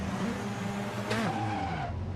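A race car in a racing video game at Road Atlanta bogs down at launch, a steady engine drone that sags and wavers, with a brief tire-squeal streak, continuous and fairly loud without speech.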